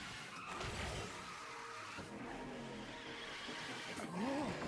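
Tires screech and skid as a car drifts through a racing video game, engine droning underneath with squeal bursts rising toward the end, fairly faint.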